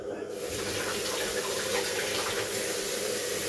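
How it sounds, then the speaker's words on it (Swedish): Cold water runs steadily from a kitchen tap onto skin to rinse a burn, a continuous close splashing hiss that starts abruptly and holds for a few seconds. "Spola kallvatten en liten stund."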